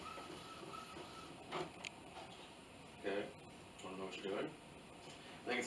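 An office printer runs, printing copies with a steady mechanical whir and intermittent feed clicks, quiet and under people talking nearby.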